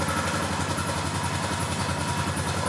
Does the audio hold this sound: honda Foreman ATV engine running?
yes